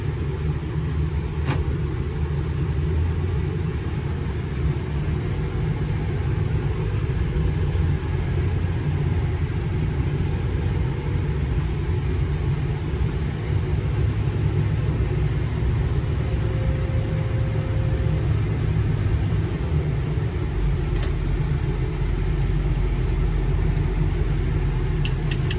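A stock 2005 Ford F350 Powerstroke 6.0 diesel truck runs and drives, its steady low rumble continuous and fairly loud throughout with no talk over it.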